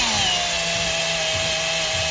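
A drill bit boring with coolant during a Hevea Cutting Edge install gives a steady, close, high whine over a low mechanical rumble, continuous throughout with no talking.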